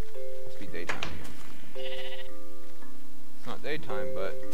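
A couple of Minecraft sheep bleats come through near a cave in the game, short wavering calls heard alongside a talking voice.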